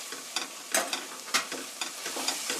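Pork stir-fried with brown sugar for a pork stew, a close crackling sizzle broken by repeated scraping and stirring strokes in an uneven rhythm, no voices.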